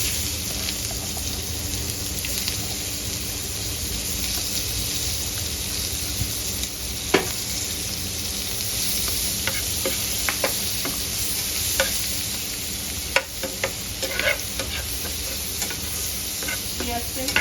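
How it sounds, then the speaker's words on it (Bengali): Onions fry in hot oil with a dense, continuous hiss like steady rain, broken by occasional sharp pops and light stirring sounds. "এই তেলেই আমরা গরম তেলেই পেঁয়াজ দিয়ে দিব।"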